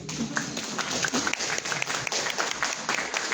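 An audience at a talk on Christian marriage applauds a couple's 20th wedding anniversary, brisk irregular hand claps rising and falling from a modest crowd for a few seconds, with no talk.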